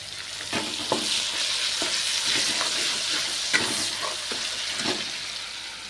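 Green chillies sizzle and spit in hot oil in a home kitchen, a steady close frying hiss broken by sharp crackles and a few stirring scrapes, with no voices.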